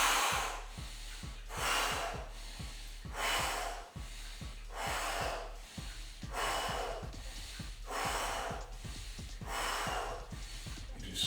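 Heavy rhythmic breathing during a lower back home workout, with repeated loud close exhales and inhales in a steady cycle of about seven breaths, and no talking.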